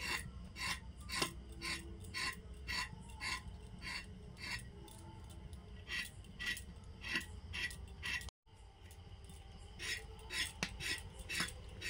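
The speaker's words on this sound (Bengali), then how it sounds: "আর পটলগুলো এই যে টেঁচে নিচ্ছি, খোসাটা ছাড়ানো যাবে না।" A knife scraping the skin off pointed gourds (potol) in a home kitchen, a run of quick, regular rasping strokes, close and fairly faint, with a brief pause near the end before scraping resumes.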